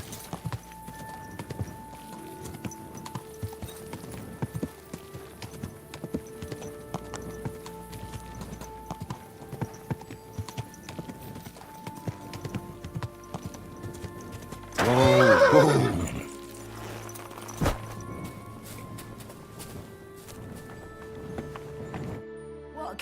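A horse in a medieval video game, Kingdom Come: Deliverance II, clip-clops at a steady walk with hooves thudding throughout, and a loud neigh bursts out midway over quiet background music.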